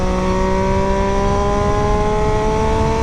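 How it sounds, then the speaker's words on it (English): Triumph Daytona 675 motorcycle engine with a Two Brothers exhaust back box, a loud steady high-pitched whine holding close and constant with rising harmonic tones, no voices. "That sound from that Two Brothers back box is sublime. Little backs and pops when you're down gearing."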